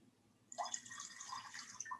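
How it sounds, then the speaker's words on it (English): Water is poured out of a container, a splashing, gurgling stream that starts abruptly and continues steadily for over a second at close range, with no talking. "I can just pour the rest out."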